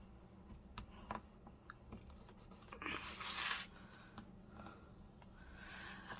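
A bone folder rubs and creases paper while making a tall, narrow handmade journal, heard as a soft, quiet scraping swipe with faint taps and light handling noise around it, under occasional low talk.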